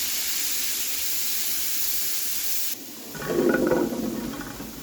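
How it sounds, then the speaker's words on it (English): Onion and garlic hit a hot pan, a steady hiss giving way to a brief quiet before a louder, crackling sizzle builds up close and then settles. "into that same pan goes the onion and garlic"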